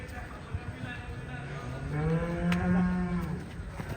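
A large Sahiwal cow moos in a long, drawn-out low call at close range on a cattle market floor, with a faint background murmur.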